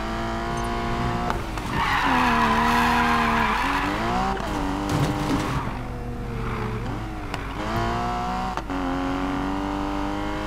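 Car in Need for Speed Payback braking and skidding, engine tones bending down and up beneath a long, loud tire squeal with several sharp shifts, no voices.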